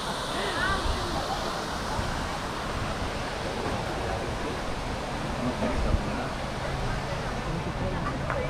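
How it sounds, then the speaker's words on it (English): At Epcot in Walt Disney World, the backwards waterfall fountain gives off a steady rush of falling water, broad and continuous, with a crowd talking underneath. "Backwards Waterfall."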